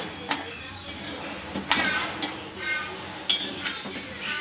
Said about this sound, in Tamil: பச்சை பயிரோடு சேர்த்துட்டு அப்படியே மிக்ஸ் பண்ணி விட்டுக்கோங்க